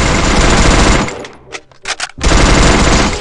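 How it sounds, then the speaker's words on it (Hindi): Shotgun blasts in the Free Fire battle-royale game, a loud dense burst of gunfire that breaks off for a couple of sharp separate shots and then resumes as a sustained roar. "अबे तू शॉटगन चलाएगा मेरे सामने शॉटगन चलाएगा, इतना पावर भाई।"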